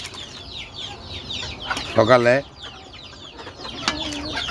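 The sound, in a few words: domestic chickens clucking while being fed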